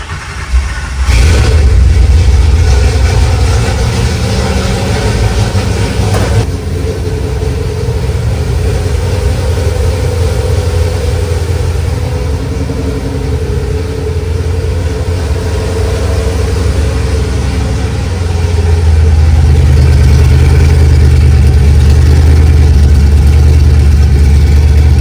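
A fastback car's engine cranks and catches about a second in, then settles into a loud, steady, rumbling idle close by, with a brief rise in revs near the end and no talking.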